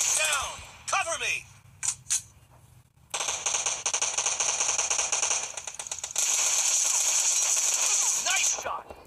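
Sustained automatic gunfire in the battle royale game PUBG, long rattling bursts of rapid shots following a few scattered sounds and brief voices.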